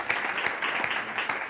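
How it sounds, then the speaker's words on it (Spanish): A short burst of applause from a round-table congress audience, moderately loud with individual claps standing out in an uneven rhythm before it fades. "Un fuerte aplauso para él, por favor"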